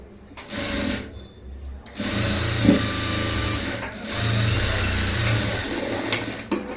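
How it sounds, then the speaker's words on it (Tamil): A sewing machine stitches seams on a 3-dot blouse, running in loud sustained bursts with short pauses between them and faint voice in the background. "அதே மாதிரி இதுலேயும் தையல் போட்டுடலாம்."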